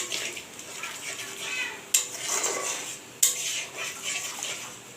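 Prawns being stirred in a cooking pan with cashew paste: a utensil scrapes and clinks steadily against the metal, with two sharp knocks partway through, heard close.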